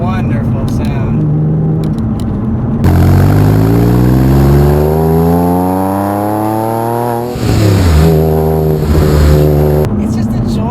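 A 2007 Porsche 911 Carrera Targa 4S with a manual gearbox accelerates on a back road, its engine note rising steadily through the revs before a shift, then settling back into a steady drone. No one speaks over it.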